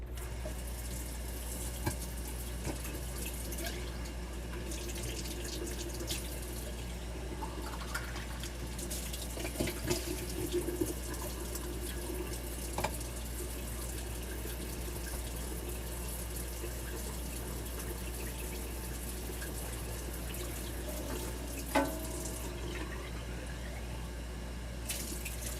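Items are rinsed under a running tap, with a steady stream of water hissing into a sink throughout, punctuated by occasional clinks and splashes.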